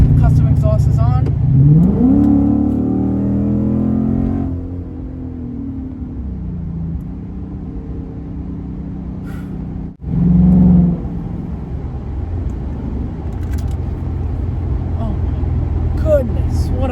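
A Lexus IS F fitted with a custom exhaust revs loudly up close, with a deep rising roar followed by a lower sustained drone and a second sharp rev, while a person talks over it.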